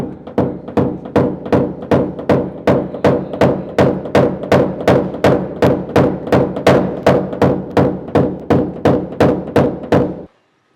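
A hammer taps steadily on a truck's sheet metal to smooth out a dent, about two dozen evenly spaced, firm blows in a row, close by, then stops.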